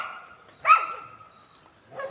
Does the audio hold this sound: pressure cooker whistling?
no